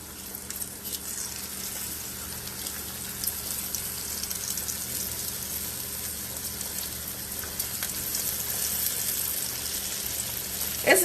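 Pork chops frying in a hot pan on a big stove eye, a steady, even sizzle and crackle of oil that holds at moderate loudness without letup, with no talking over it.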